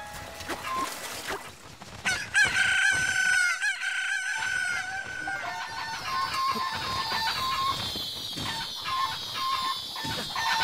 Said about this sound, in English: they'll get angry and they'll swarm you like you're seeing here